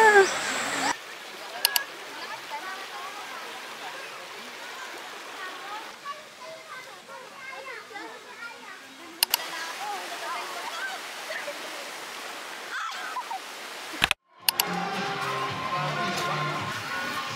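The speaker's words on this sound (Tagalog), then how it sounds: "So, look at the river." A river flows with a waterfall nearby during a holy week river trip, giving a steady rushing of water throughout. People talk over it, and there are a few brief clicks and one short dropout.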